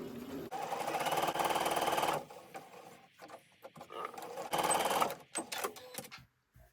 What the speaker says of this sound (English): get everything lined up and just sew them all down.